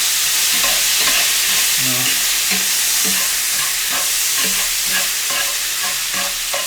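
Sliced cheesesteak meat sizzling loudly in a hot pan, a constant dense crackle and hiss with scraping and stirring sounds from a spatula recurring throughout.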